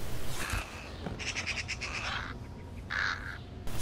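Birds in the Thief video game caw and squawk in several harsh, repeated bursts, fairly close and loud against a low background hum.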